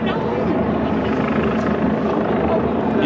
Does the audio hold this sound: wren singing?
no